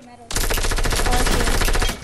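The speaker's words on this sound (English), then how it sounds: "Where is he shooting me from?" Automatic gunfire in the video game Fortnite, a loud rapid burst of shots that starts abruptly and continues for nearly two seconds.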